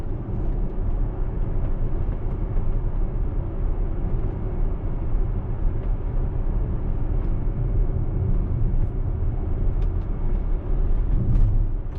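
A Tesla drives itself along narrow village roads, making a steady low rumble of road and tyre noise inside the cabin that holds constant at moderate volume, with no talk.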